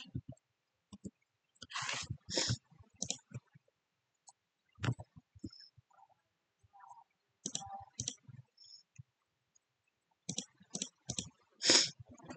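Sharp, isolated computer mouse clicks come in small clusters separated by silence, close and crisp, sometimes doubled in quick succession.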